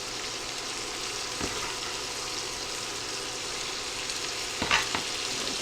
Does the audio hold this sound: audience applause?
no